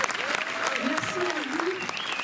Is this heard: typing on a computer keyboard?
no